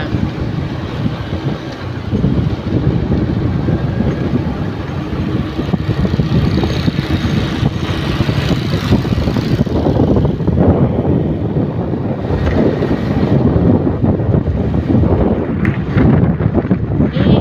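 Strong wind roars and buffets against the microphone continuously, loud and gusty throughout with no talking.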